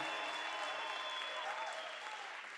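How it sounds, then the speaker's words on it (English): Steady audience applause for event sponsors on a South African podcast episode, a continuous dense wash of clapping that holds evenly throughout and eases slightly at the end, with no voices standing out. "Let's give them a big round of applause."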